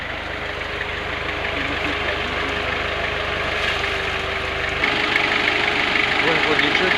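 An overheating Toyota car engine idles with a steady low rumble and vibration, growing slightly louder near the end, close and continuous.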